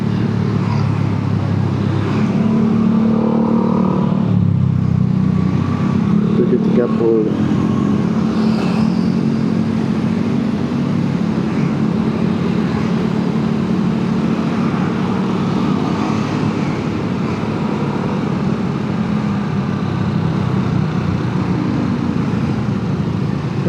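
Road traffic noise recorded while riding through a traffic jam: a steady broadband rumble of cars and motor vehicles that goes on throughout, with a few passing engines and brief revs, a short spoken word near the start.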